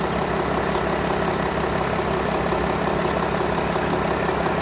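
A La Strada Regent S 4x4 camper van's engine idles steadily, a loud, unbroken low rumble with no variation and no voices over it.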